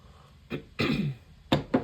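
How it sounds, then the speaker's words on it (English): A few short, dry coughs and throat-clearing bursts, close and fairly soft, spaced unevenly over a couple of seconds. "Now I've got a cough."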